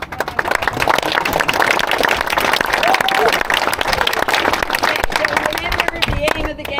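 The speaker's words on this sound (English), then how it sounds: "a big round of applause to Mary Louise" A small outdoor crowd at a parkrun claps loudly and continuously for several seconds, close-up patter with some chatter mixed in.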